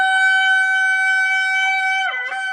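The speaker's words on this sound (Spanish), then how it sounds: "para lo que son sonidos de shofar para alabanzas de júbilo" One long, loud, steady blast on a shofar for joyful praise, a bright ram's-horn tone rich in harmonics that holds evenly, then bends and breaks in pitch near the end.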